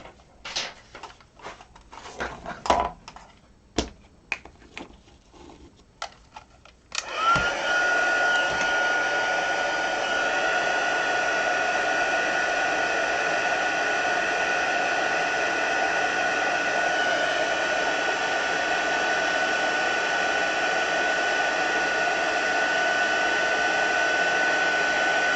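After a few light taps and clicks, a heat gun switches on and blows steadily to heat-set paint, a constant close whooshing hum that holds unchanged for nearly twenty seconds.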